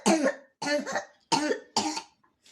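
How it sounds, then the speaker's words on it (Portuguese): A persistent cough comes in four harsh, close bursts, each a quick double or triple hack separated by short pauses. "A crise dele de tosse tinha intervalo de 15 segundos."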